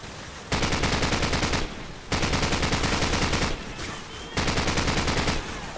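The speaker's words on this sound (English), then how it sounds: "Jackson, use their machine gun." Machine gun fire in a combat video game: long sustained bursts of rapid automatic shots, loud and close, separated by short pauses.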